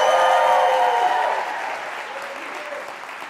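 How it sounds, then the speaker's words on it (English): A TEDx conference audience in New York breaks into loud applause with cheering and roaring, dense and sustained at first, then easing slightly toward the end. "please applaud, cheer, and roar as loud as you can"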